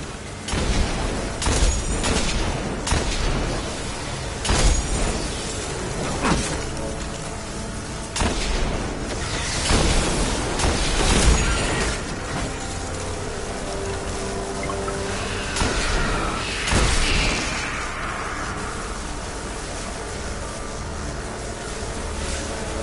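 Gunfire and explosions in the video game Destiny as a shield is shot down, loud repeated bursts and booms spread irregularly across the stretch with mechanical clatter between them.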